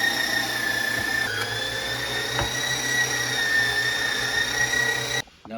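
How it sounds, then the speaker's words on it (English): An electric meat grinder works through chuck roast and onions with a steady, high motor whine and a low hum, running evenly and then cutting off abruptly at the end. "We're gonna grind the meat for the stuffing, the meat and the onions,"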